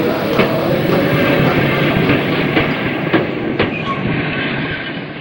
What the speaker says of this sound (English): The train begins to leave the station.